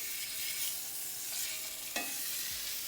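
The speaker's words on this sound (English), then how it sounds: "I'm going to get my steak going just for the last sear I want on it" A steak searing in a hot pan with canola oil hisses in a steady, close sizzle, with a brief sharp crackle and a spatter burst partway through, no talking.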